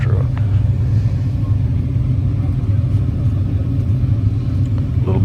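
Low, steady rumble of a pickup truck engine idling or running close by, a continuous loud drone with no clear revs or breaks.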